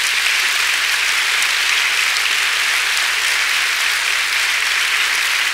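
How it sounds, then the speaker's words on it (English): An audience at a 2009 Clinton School talk gives a round of applause, a dense, steady wash of clapping that lasts the whole stretch, with no voices over it. "let's give him a round of applause before we start the question"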